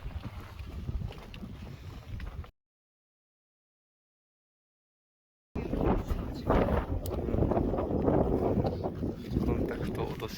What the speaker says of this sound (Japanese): 風が強く吹いていたので